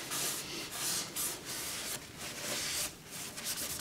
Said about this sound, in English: we're going to give this a good clean with IPA